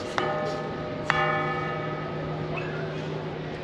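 Two cathedral bell strikes ring out in Tuscany, each one followed by a long resonant hum that slowly fades over a steady outdoor background.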